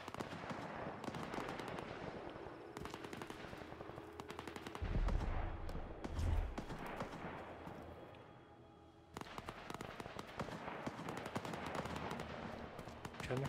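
Rapid bursts of automatic gunfire crackle almost without pause in the video game STALKER 2: Heart of Chornobyl, with a couple of heavier booms midway and a brief lull before the shooting resumes.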